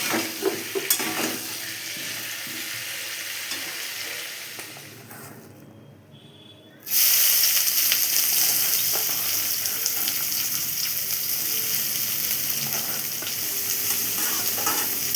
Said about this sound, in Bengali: সামান্য পরিমাণ হলুদ দিয়ে আলুটাকে একটু ভালো করে ফ্রাই করে নেব